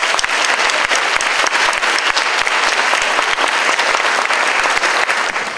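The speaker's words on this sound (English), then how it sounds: "Please join me in an applause of welcome to our State Superintendent of Education" An audience at a school district luncheon claps steadily to welcome the State Superintendent of Education, a dense, sustained round of applause heard close and loud without pause.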